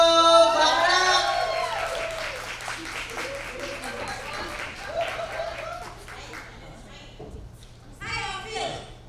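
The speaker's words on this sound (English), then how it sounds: "Clap it up." An audience at a women's wellness summit claps and cheers to welcome a speaker to the stage, with loud whoops at first, then applause that fades under voices.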